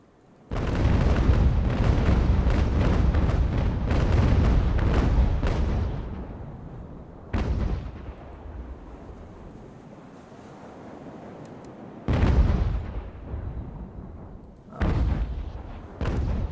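Ships fire cannons in a naval battle video game: a dense rolling barrage of booms for several seconds fades into a rumbling tail, followed by separate heavy blasts at intervals.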